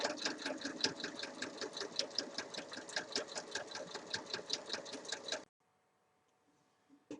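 A sewing machine stitches gray fabric pieces of a tote bag together along a 1 cm seam. Its rapid, even needle chatter runs close and steady for about five seconds, then stops abruptly into near silence.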